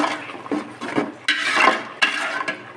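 Meat with turmeric, salt, chili and coriander powder being stirred and fried in a pot: a spoon scrapes and clinks against the metal in irregular strokes over a soft sizzle, close and fairly loud.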